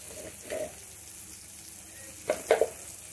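Turmeric powder frying in a home kitchen pan gives a low, steady sizzle, with a few brief scraping stirs near the start and a short cluster of louder stirring clatter toward the end.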